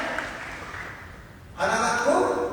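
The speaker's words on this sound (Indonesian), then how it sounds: "Tepuk tangan kepada semua" An audience of Indonesian policewomen bursts into applause at a personal branding talk; a quiet room gives way to sudden, steady, dense clapping that carries on to the end.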